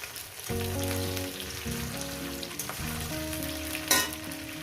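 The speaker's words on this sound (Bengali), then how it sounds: "দিয়ে দেবো বেগুন আর কাঁচা লঙ্কা দিয়ে দেবো এটাও আমি চার পাঁচ মিনিট ধরে এটাকে ভাজবো" Eggplant and green chillies frying in a pan, a soft continuous sizzle running beneath background music, with a brief louder burst of crackle near the end.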